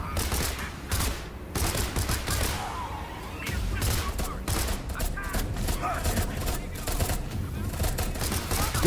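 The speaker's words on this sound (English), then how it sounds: "I now have a machine gun." Rapid bursts of machine gun fire in the horror video game Beneath, dense repeated shots in clusters with a few pauses, loud and continuous across the scene.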